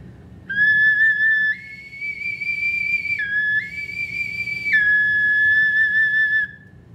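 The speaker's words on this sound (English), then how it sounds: "And it has a very piercing high sound." Small ancient Mexican clay ocarina plays a piercing, pure high whistle-like tone, holding a few sustained notes that step up and back down, loud and close with no talking.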